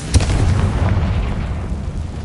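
Hogwarts Legacy Confringo fire spell explosion, a loud close boom at the start that rolls into a sustained rumbling roar and slowly fades.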